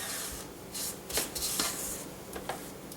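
A spatula scrapes around a bowl of vanilla cake batter, several soft rubbing strokes close by with light clinks against the bowl; no talking.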